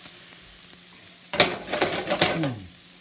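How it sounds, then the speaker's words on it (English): Leftover food with jalapenos sizzles and crackles in a hot frying pan, with a burst of stirring and scraping partway through, close and fairly loud. "That's the sizzling of happy food getting ready to go in my belly."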